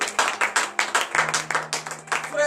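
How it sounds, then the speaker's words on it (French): Bursts of clapping and applause from a church congregation during morning prayer, rhythmic and fairly loud, with a low hum underneath. "Donnez de vives acclamations à l'Éternel."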